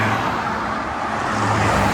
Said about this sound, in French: Les voitures passent très rapidement.